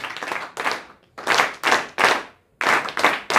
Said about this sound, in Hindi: आप सब दोबारा से ताली बजाने का काम करें। 3 क्लैप्स गो।